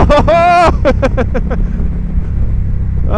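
A 2020 Indian Challenger motorcycle in sport mode pulls hard, its engine note rising in a quick series of loud revving pulses before settling into a rougher rumble with wind noise; a voice briefly calls out over it.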